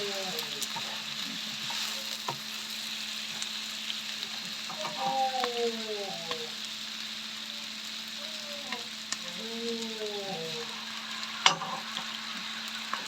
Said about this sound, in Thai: ราดน้ำซอสลงไป